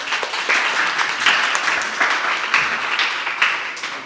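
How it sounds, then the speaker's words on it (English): An audience at a film panel during San Sebastian 2021 applauds in a steady, dense wash of clapping that holds for several seconds at moderate distance, without voices. "Okay, a quick round of applause there,"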